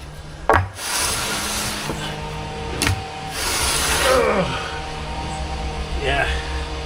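A tool scrapes over a garden office base during the build, producing sustained rough grinding strokes with a few sharp knocks, close and loud, while people talk.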